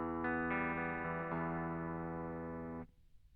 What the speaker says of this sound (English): I just want to kind of demo what happens with the compressor on it.